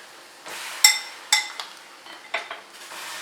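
Peanuts tumble into hot salt in a pan over a low flame, giving a few sharp metallic clinks and rattling scrapes against a low background hiss, close by with no talking.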